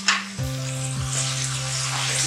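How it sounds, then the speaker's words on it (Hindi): Half a kilo of mutton with garlic and ginger paste sizzles and fries steadily in a pan, with a clatter of stirring as the meat goes in and a continuous hiss after. "अच्छी तरह गोश्त को भूनना है।"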